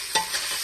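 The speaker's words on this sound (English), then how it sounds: "Now I'm gonna fucking stir that motherfucker around." A spatula stirs chopped bologna and seasonings in a hot pan, a brief close scrape followed by a continuous bright sizzle, heard alone without speech.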